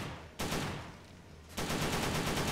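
Rapid video game gunfire as bullets are sprayed nonstop, a dense continuous burst that drops slightly in the middle before surging back at full loudness.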